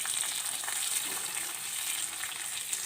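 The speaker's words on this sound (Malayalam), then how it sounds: "കടുകും കരിവേപ്പിൻ്റെയും സാമ്പാർ പൊടിയൊക്കെ ഇട്ടിട്ട് നന്നായി ഇളക്കി കൊടുക്കാം" Mustard seeds, curry leaves, dried chili and sambar powder fry in hot oil with a dense, even sizzle and crackle, stirred steadily, loud and close with no pauses.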